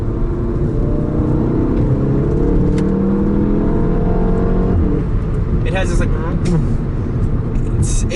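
A car in third gear with sport-mode shifting revs up under steady engine drone, then a few sharp pops crackle as it upshifts near the end, heard from inside the cabin while someone talks over it.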